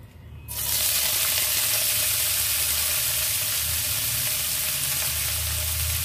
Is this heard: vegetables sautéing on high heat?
yes